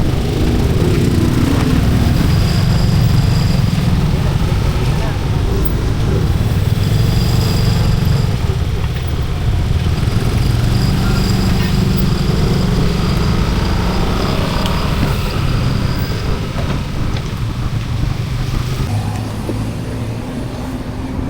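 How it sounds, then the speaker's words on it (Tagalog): Fast motorcycles stream past on a road between Singapore and Johor Bahru, heard from a bicycle as a loud, continuous engine drone that swells and fades as they overtake. "Maraming mabibilis na motor dito."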